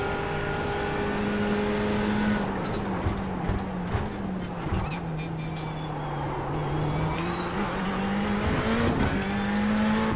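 A Mercedes GT3 race car runs in an IMSA sportscar race, its engine a loud, continuous drone that dips and rises in pitch through the run, with faint tire noise.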